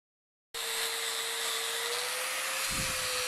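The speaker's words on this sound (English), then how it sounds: "sanding disc on a grinder to make the final finish on it." An angle grinder fitted with a sanding disc, finishing a bark spud log peeler forged from a truck leaf spring, starts abruptly after a moment of silence and keeps up a steady, high whine with a slight falling tone and a brief low thump near the end.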